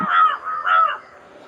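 Two loud, harsh crow caws in quick succession, close by, followed by a moment of near silence.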